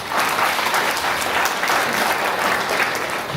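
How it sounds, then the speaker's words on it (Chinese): A church congregation claps together during a joint Sunday worship service at a Presbyterian church, a steady, full wash of hand claps that continues evenly throughout. "我们拍手归荣耀给神"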